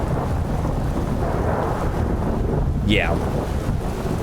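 Steady rain in the video game Skyrim, a dense hiss throughout with a low rumble suggesting distant thunder, and a brief voice heard near the end.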